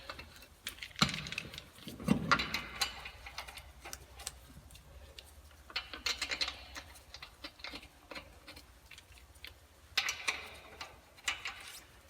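A ratchet runs down the wheel lug nuts on a Chevy GMC truck after a front wheel bearing hub replacement. Quiet, rapid clicking comes in several short bursts with pauses between them.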